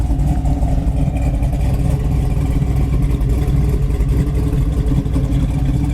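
A 1970 Plymouth Cuda engine runs at a steady idle, a loud, close, low rumbling drone with no pauses and no voices.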